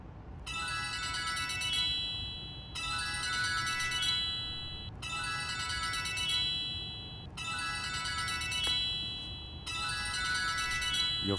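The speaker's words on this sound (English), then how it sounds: "Your phone is ringing." A phone ringtone rings in five repeated bursts with short gaps between them, bright and clear over a faint hum, with no one speaking.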